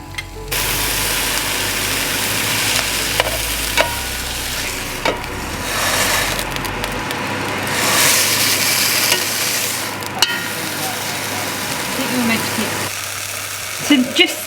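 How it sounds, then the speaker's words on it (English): Meat browning in a pan sprayed with Fry Light, a loud steady sizzle with scattered clicks and scrapes, a low hum running under the first half. "spray it with some fry light, and then you just want to basically brown the meat on all sides"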